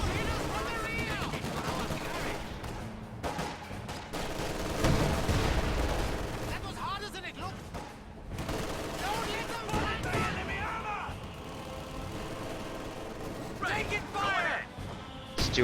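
Machine gun and anti-tank gun fire in a World War II strategy video game, bursts of rattling shots and heavy booms, mostly distant and mid-level, running under steady commentary throughout.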